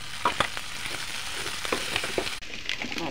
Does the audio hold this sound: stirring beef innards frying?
yes